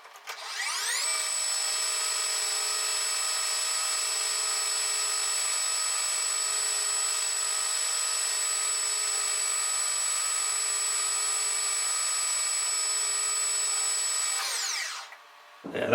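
A metal lathe cuts steel with a freshly sharpened brazed carbide tool bit, giving a steady, loud, even whine that holds for about thirteen seconds before spinning down, with no talking.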